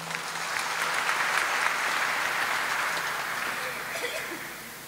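An audience at a West Java send-off ceremony for Quran memorisers claps steadily throughout, a broad even wash of applause at moderate distance that tapers slightly at the end.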